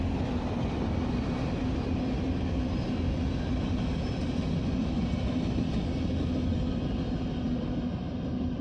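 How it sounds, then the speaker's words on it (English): A heavy freight train hauling crude oil, ethanol or grain rolls past near the Canadian border, making a steady, loud rumble and clatter of railcars that holds without a break. "Both heavy crude oil, ethanol, and grain trains from Canada are unscheduled."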